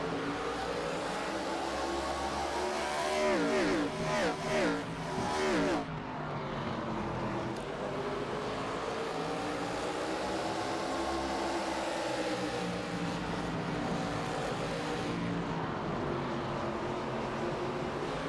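Race cars at Slinger Speedway roar past in a steady, loud engine drone, with a few surging revving passes and shifting pitch as the pack circles the oval.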